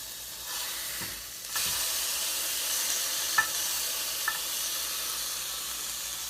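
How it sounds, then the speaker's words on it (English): A burger patty fries in a pan with a steady, bright sizzle that swells after a soft start, close by, with a couple of faint clinks along the way. "Obviously, I'm cooking a burger patty up right quick for my sandwich"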